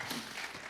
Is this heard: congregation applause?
yes